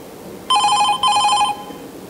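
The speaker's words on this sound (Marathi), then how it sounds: "कुणाचा फोन आला" A telephone rings in two loud electronic bursts with a short gap between them, then stops, in an indoor scene from a Marathi stage play.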